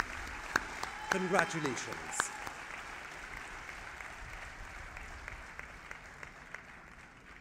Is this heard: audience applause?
yes